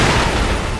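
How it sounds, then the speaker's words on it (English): A firecracker set off in the action game Sekiro, a loud burst of crackling, popping blasts packed densely into under a second, harsh and close. "Let's also equip the firecracker, which I should have done earlier."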